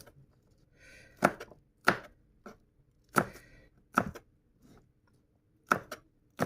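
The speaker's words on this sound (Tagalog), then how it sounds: "Basta hiwain ko ng ganyan to." A knife chops food on a cutting board in a home kitchen with sharp, close knocks. About six spaced strokes fall in an irregular rhythm, and no speech is heard.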